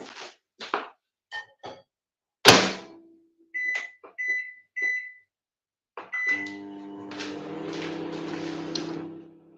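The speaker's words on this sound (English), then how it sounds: "at the moment it's just going to be lots of microwaving" Microwave oven used for pressing flowers: door clunks, several button beeps and a sharp thunk, then a steady low electrical hum as the oven starts running.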